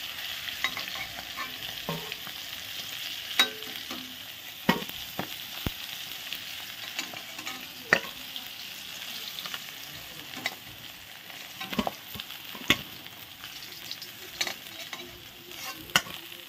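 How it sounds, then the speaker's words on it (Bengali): Pieces of catla fish fry in hot oil with a steady, even sizzle throughout, punctuated by scattered sharp crackles and occasional clinks of a utensil turning the fish. "মাছগুলো এক পাশ ভাজা, দুই পাশই ভাজা হয়ে গেছে। এখন উঠিয়ে দিচ্ছি।"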